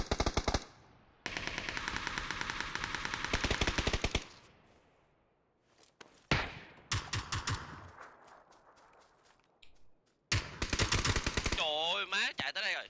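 Rapid automatic gunfire in a video game rings out in loud sustained bursts, several long volleys separated by pauses, with short sharper shots between and brief voice chatter in the gaps.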